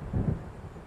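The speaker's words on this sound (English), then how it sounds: "It seems there's a storm coming." Brief, deep rumble of thunder from an approaching storm in the video game Alan Wake, a single low roll under a soft wash of rain-like noise.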